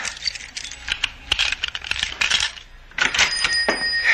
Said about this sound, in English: Stop fumbling with those keys. Open the door.